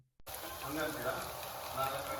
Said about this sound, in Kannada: ಈಗ ಅದಕ್ಕೆ ನಾವು ಶುಂಠಿ ಬೆಳ್ಳುಳ್ಳಿ ಪೇಸ್ಟ್ನ ಆ್ಯಡ್ ಮಾಡ್ತಾ ಇದ್ದೇವೆ.